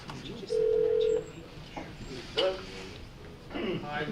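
Telephone call connecting in a legislative committee hearing room: a steady electronic tone lasting under a second, followed by brief beeps and clicks, faint and a little distant amid room noise.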